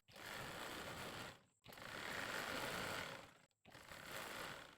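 A sewing machine stitches the sleeve of a Punjabi kurta, its steady mechanical whir running in three sustained bursts, close and fairly loud, with short pauses between runs.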